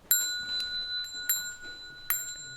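A small ceremonial bell is struck three times at steady intervals to mark bows, each bright metallic ding ringing on with a sustained tone over a quiet room.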